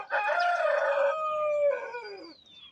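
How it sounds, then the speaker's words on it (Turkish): A rooster crows once, a long loud cock-a-doodle-doo rising then trailing off, fairly close with no talking. "Şu horoz da bir susmadı ya"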